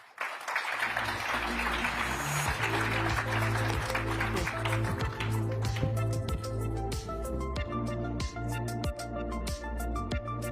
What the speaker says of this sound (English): can I get a round of applause for the panelists here?